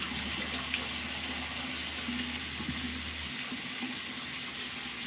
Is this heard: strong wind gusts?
no